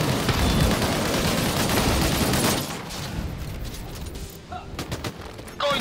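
Sci-fi gunfire in the video game Disintegration: dense, rapid volleys of shots layered over a noisy battle din, easing somewhat after the midpoint with brief bursts continuing, no clear speech.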